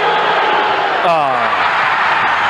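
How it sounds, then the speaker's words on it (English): Arena crowd roaring steadily at a 1982 Bucks vs Spurs basketball game, a loud continuous wash of voices with a brief rising swell near the middle. "Listen to the crowd here."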